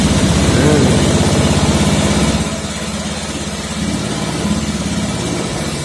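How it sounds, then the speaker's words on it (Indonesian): A motorcycle engine starts and settles into a steady idle, with a loud rumbling burst early on that drops to a lower, even idle; people talk over it. "Sekarang saya mau hidupkan motor dulu"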